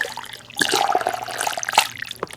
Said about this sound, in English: can you pour me some coffee?